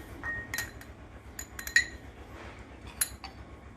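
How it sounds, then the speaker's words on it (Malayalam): A spoon clinks against a bowl while Oreo cake batter with butter is mixed, with several sharp, irregular metallic taps that are close and fairly quiet and have no talking over them. "നമുക്കത് മിക്സ് ചെയ്ത് കൊടുക്കാം നല്ല വൃത്തിയൊന്ന്."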